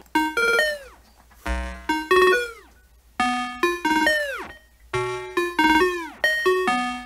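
An 8-bit chiptune synth in FL Studio is chopped by a Gross Beat triplet effect into bright, bell-like bursts of falling notes in stuttering groups, alone and fairly loud.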